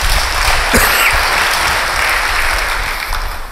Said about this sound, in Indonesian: Yang percaya, beri tepuk tangan yang baik.